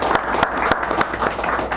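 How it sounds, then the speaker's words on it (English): A small audience at a poetry hour in a San Francisco cafe claps in a brief burst of applause, with sharp individual claps standing out close by. "Give her a round of applause"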